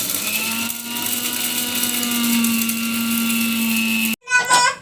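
A kitchen grinder runs steadily, grinding dried red chillies into powder, a loud continuous whine with a stable hum, then stops abruptly and a voice speaks at the end.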